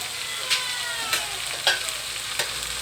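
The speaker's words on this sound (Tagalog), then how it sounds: "yung ating niluluto na pansit" Pansit noodles frying in a pan, a steady sizzle broken by four sharp stirring scrapes spaced about half a second apart, close and moderately loud with no voices.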